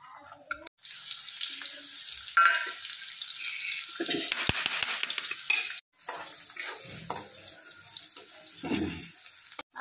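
Cumin seeds hit hot oil with turmeric and salt in a pan for a green chickpea leaf bhaji, giving a steady close sizzle with scraping stirs and a brief watery splash partway through.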